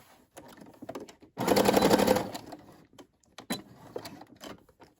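A Brother SE600 sewing machine stitches a fabric key fob, running in one loud, fast, steady burst of needle rattling about a second long, surrounded by quieter scattered clicks and handling taps.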